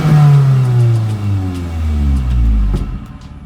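Engine of a Nissan D21 Hardbody pickup running after a thermostat install, rising and falling in pitch as it revs, close and steady without any talk.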